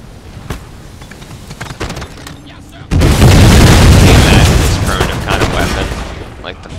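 Explosions and volleys of musket fire in an Empire: Total War battle between Austrian and Prussian forces: sparse sharp shots at first, then a sudden loud, sustained roar of booming blasts and crackling fire, with a voice faintly underneath.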